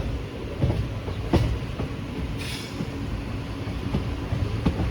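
Tirupati Express from Chamarajanagar via Mysuru, turning slowly near Nanjangud, with a steady rumble and intermittent clickety-clack of wheels over rail joints, close and continuous without voices.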